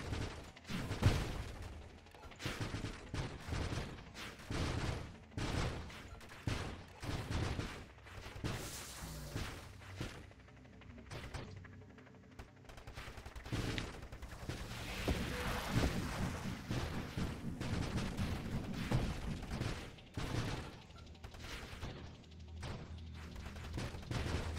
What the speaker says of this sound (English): There goes missiles.